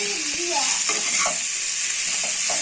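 Potatoes with cumin seeds fry on a low flame in a pan and are stirred. A loud, continuous close sizzle runs throughout, with a tune playing over it.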